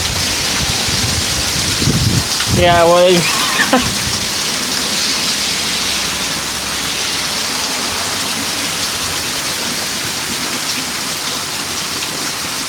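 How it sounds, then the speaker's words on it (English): Heavy rain pours down steadily on a Fourth of July evening, a dense continuous hiss filling the whole stretch, with a brief voice near the start. "Mother Nature said, screw you, and it rained down hell"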